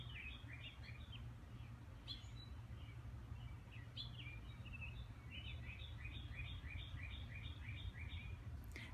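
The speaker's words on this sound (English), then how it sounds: "especially when you don't hear the traffic and you can just listen to the birds" Several birds sing outdoors in repeated bright chirping phrases, fairly distant and soft over a steady low background rumble.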